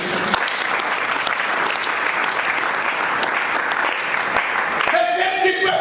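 A church congregation applauds steadily throughout a worship service, a dense sustained clapping that stays loud from start to finish, with a brief voice and tone emerging near the end.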